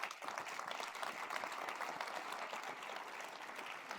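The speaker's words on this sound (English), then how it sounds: "How about a round of applause for all three?" An audience at a university state-of-the-address event applauds, a dense, even wash of many hands clapping that carries on steadily throughout, heard from a distance at moderate volume and unbroken by speech.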